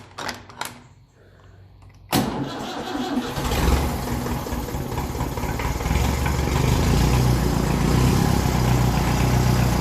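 A 1954 Ferguson 20 TEF diesel tractor cranks briefly after a few clicks, then fires and settles into a loud, rumbling diesel idle that runs steadily to the end.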